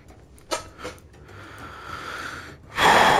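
Heavy breathing close up, from a VR game session: a couple of sharp gasps, then drawn-out breaths building to a loud, rough exhale at the end.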